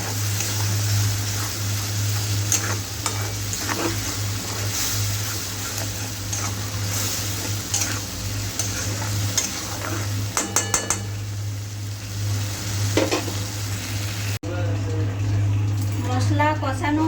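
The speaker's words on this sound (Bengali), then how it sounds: "মশলাটা 10 মিনিটের মতন আমি কষালাম" Spice paste (masala) is stirred in a frying pan, with repeated metal clinks and scrapes of a utensil against the pan over a low hum and soft sizzle, while a voice talks at times.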